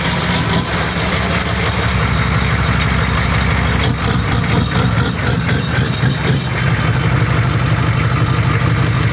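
A Hummer fitted with a big turbo idles just after starting, a loud, close, continuous engine rumble with steady vibration and no talk over it.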